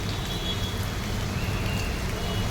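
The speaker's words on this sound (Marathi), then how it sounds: "मुंबईमध्ये मुसळधार पाऊस सुरू आहे" Heavy monsoon rain pours down in Mumbai, a dense, even hiss of falling water that stays constant throughout, with no one speaking.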